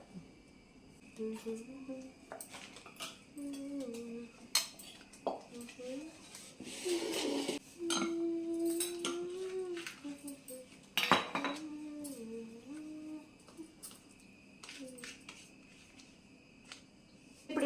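Spoon clinking and scraping in a bowl as ginger-garlic paste, chili powder and mustard powder are mixed for a ginger avakaya pickle, in irregular bursts under a woman's speech.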